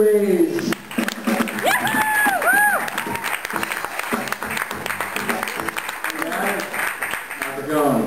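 A comedy club audience bursts into applause and cheering to welcome a comedian onstage, the clapping dense and sustained, with a voice calling out over the crowd.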